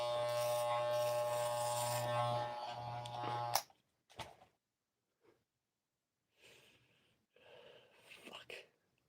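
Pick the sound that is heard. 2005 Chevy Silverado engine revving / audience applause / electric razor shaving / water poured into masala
electric razor shaving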